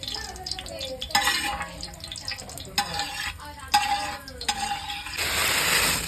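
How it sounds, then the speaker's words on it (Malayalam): Vermicelli for payasam is stirred in a pan, repeated scraping and rustling strokes of a spoon against the metal over a faint sizzle, with a voice talking quietly in the background. "സേമിയിട്ട് നല്ലോണം ഇളക്കുക. നല്ലോണം ഇളക്കണം."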